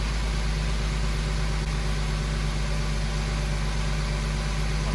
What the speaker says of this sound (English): The engine is running so good.